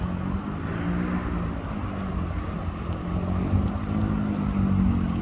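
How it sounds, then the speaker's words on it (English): A boat engine hums low and steady nearby as it passes along a canal in Bruges, Belgium, with faint wind in the background. "Here comes the boat. Oh, there's more than one boat."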